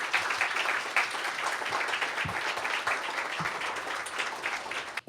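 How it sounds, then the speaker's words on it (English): Steady round of audience applause at a summer appreciation luncheon, moderately loud and continuous clapping throughout with a few sharp claps standing out, ending abruptly. "Let's give all of our speakers another round of applause"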